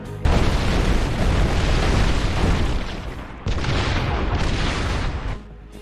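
Generators exploding in the Ben 10 Omniverse video game: two long, loud, rumbling blasts, one right after the other, each filling the sound with dense roaring noise before it tails off.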